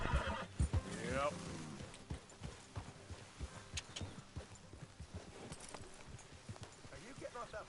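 Horse in Red Dead Redemption whinnies loudly near the start, then hooves clip-clop steadily under ongoing game sounds and voices.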